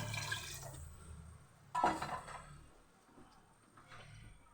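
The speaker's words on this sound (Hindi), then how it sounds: "अब मैं इसमें पानी ऐड करूँगी।" Water is poured into a pan of fried onions for pulao, heard as a sudden splash and brief sizzle that dies down into a soft simmer. It is fairly faint and there is no talking.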